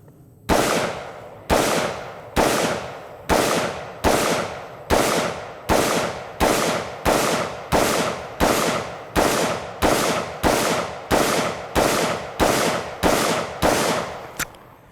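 A Spikes Tactical rifle fires a full magazine at an outdoor range, about twenty loud, evenly spaced shots at a steady rhythm, each with a sharp crack and a short decaying echo, with no other sounds.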